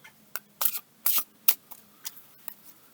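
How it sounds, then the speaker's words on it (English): A fallen angel oracle card deck is shuffled overhand by hand, giving a series of crisp, close papery slaps and riffles in an irregular rhythm, with quiet gaps between bursts and no voices. "7 overhand shuffles"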